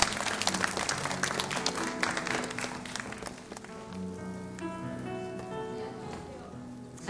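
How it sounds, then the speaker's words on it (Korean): A congregation at a church youth worship service claps to welcome a district leader to the front; brisk, full applause for several seconds that thins out as soft music with sustained tones comes in. "우리 박수로 앞으로 모셔보도록 하겠습니다."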